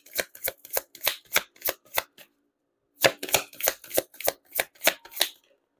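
Tarot cards being shuffled in two bursts of quick, crisp riffling flicks, about nine sharp snaps each with a short pause between, close and clear with no talking.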